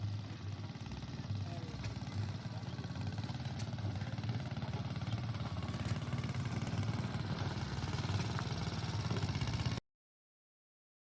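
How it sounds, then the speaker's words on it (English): The engine of a ridden wooden tractor runs with a steady, low, chugging putter that stays close and even for about ten seconds before cutting off abruptly. "I'm just riding a wooden tractor"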